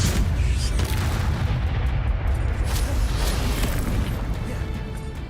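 Spell effects from the Hogwarts Legacy video game, with a dense, booming rumble that is steady and loud throughout and a few sharp magical crackles on top.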